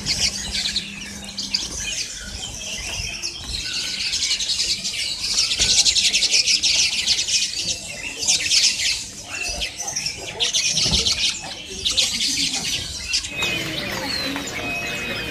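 A young golden-headed weaver chirps busily up close at a bird market kiosk, rapid tweets and squawky calls tumbling over each other in loud bursts with brief pauses between.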